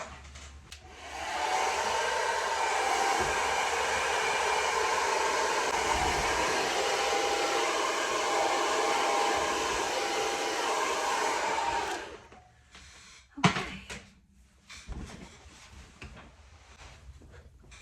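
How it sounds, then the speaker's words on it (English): A hair dryer blows with a loud steady whoosh for about ten seconds drying paint, then shuts off, followed by a few quiet clunks and handling noises. "and I'm going to do that with hair dryer."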